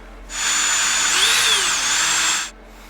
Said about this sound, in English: we got to drill this hole in here